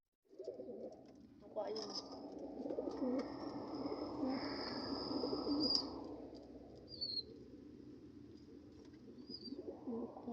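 Pigeons coo close by with soft, low throaty calls, mixed with brief wing flaps and a few higher chirps, while a person says a word early on.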